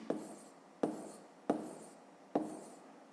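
A pen or pencil writes a subtraction by hand, giving four sharp taps each followed by a short scratching stroke, close and distinct in a quiet room, with no talk.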